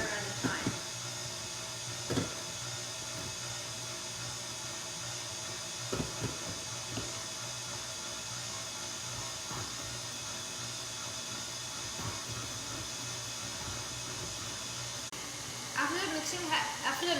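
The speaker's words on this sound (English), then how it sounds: "After the mixer has been going for a few minutes, just turn it off." An electric mixer beats cake batter with a steady whirring drone throughout, close and fairly loud, with scattered knocks and clatter and a talking voice heard over it.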